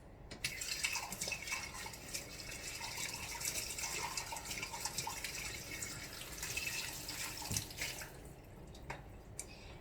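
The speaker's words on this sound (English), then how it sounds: "And we're just gonna give it a quick rinse." Greens for juicing rinsed under running water, a continuous soft splash and trickle with occasional drips, faint and close, tapering off near the end.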